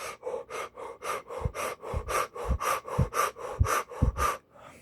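Fast, forceful breaths in and out repeat in a steady rhythm during a breathwork session, close and loud, about three per second, like deliberate heavy panting.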